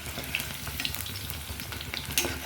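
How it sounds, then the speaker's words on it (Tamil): Cauliflower pakoda deep-frying in a pan of hot oil, a dense, steady bubbling sizzle up close with scattered sharp pops and crackles throughout. "திருப்பி போட்டு பொரிச்சு எடுத்துக்கலாங்க"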